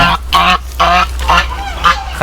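Geese honking near their nest, a series of loud, close, repeated nasal calls in quick bursts with short gaps between them.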